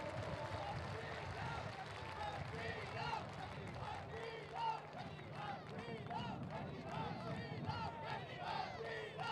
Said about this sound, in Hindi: एक बार जोरदार तालियां दिल्ली के सारे निर्माताओं के लिए बजा दीजिए